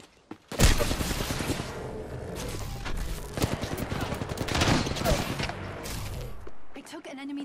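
Video-game gunfire erupts in a sudden loud blast, then keeps going as dense, rattling volleys with scattered booms, mixed with speech throughout.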